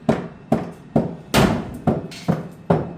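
Seven sharp hammer blows striking pressure-treated wood boards at a steady pace, close and loud, each ringing briefly before the next hit.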